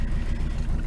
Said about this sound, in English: open the door, you can hear that exhaust system. It just sounds horrible.